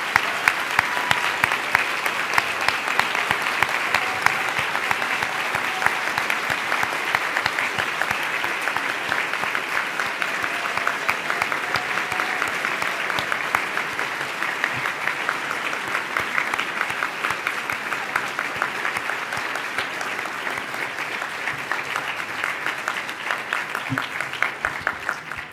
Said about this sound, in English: perhaps we can give her one more round of applause